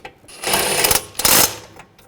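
Power tool tightening brake caliper bracket bolts on a 2007-2013 BMW 328i front brake: two loud whirring bursts about a second apart, close up, with no talk.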